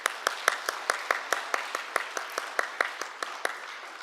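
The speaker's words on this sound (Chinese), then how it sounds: "我们大家来鼓掌欢迎他们" A church congregation at a Taiwanese-language Sunday service claps to welcome a visiting congregation, crisp claps falling in a steady, even rhythm at about five per second, close and clear.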